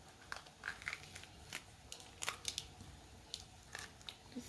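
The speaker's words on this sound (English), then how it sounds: "Just easily rip that like side membrane out." A bell pepper's side membrane is pulled and torn out by hand in a kitchen, giving several short, crisp crackling rips and snaps close by, with no talking.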